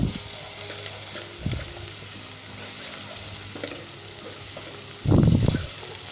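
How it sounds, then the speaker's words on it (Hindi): Onions with ginger garlic paste fry in a pan with a steady low sizzle, broken by a few stirring scrapes and a louder burst of sputtering near the end, with no voices. "मज़ीद 2 मिनट तक हम इसे भूनेंगे अच्छे तरीके के साथ।"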